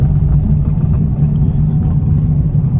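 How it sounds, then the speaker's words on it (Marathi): A Maruti S-Presso car arriving, its engine giving a steady, close, low rumbling hum without a break and with no voices over it. "थोडी मोठी गाडी आली आहे, एस्प्रेसो"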